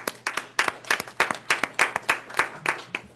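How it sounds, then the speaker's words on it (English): A small group claps hands in a brief, uneven round of applause, sharp individual claps close by over a low steady hum. "Well, hold your applause"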